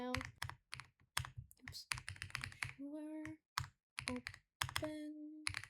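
A long command typed on a computer keyboard, with rapid clattering key bursts separated by short pauses and a person speaking briefly between the runs of typing.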